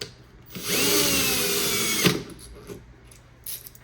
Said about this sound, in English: I drill a hole in the aluminum